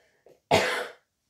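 An adult gives a single short, sharp cough, close and clear, after a faint throat sound, in an otherwise quiet indoor space.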